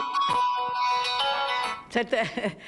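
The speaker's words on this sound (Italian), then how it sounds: "Cellulare ogni tanto parte anche a me" A mobile phone rings with a sustained electronic tone, then people begin talking over it near the end.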